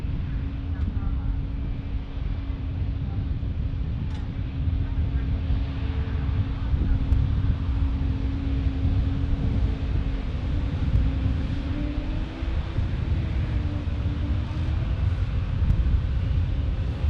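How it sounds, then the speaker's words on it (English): An Airbus A220 airliner hums in a low, steady drone, picked up outdoors at San Diego airport. Wind buffets the microphone and broadband rumble covers much of the engine tone. "you can hear the A220 humming"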